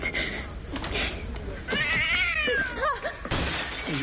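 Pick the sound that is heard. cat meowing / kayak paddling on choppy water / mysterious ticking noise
cat meowing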